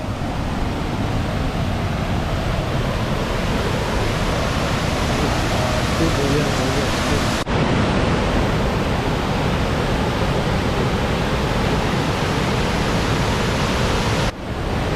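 Steady, loud broadband roar of the Meenvallam waterfall in Palakkad, a continuous rushing wash of falling water that fills the whole scene without pause.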